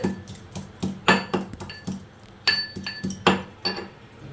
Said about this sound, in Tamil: இப்போ பூண்டு வந்து ஒரு நாலு பல்லு பூண்டு தட்டிக்கலாம் தாளிக்கிறதுக்கு